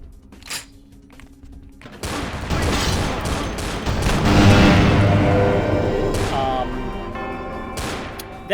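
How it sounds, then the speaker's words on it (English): Grenade launcher explosions in the Vampire: The Masquerade video game, a sustained barrage of booming blasts and rumbling impacts that swells to a loud peak midway and stays dense until the end. "That grenade launcher is going to be a serious problem."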